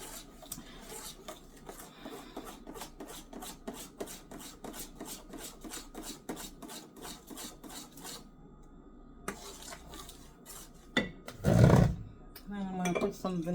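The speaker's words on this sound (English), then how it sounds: "Let's keep stirring." Peanut punch is stirred in a pot, a rapid run of rhythmic rasping scrapes from a utensil against the pot, then scattered clinks and a brief louder burst near the end; a voice speaks lightly.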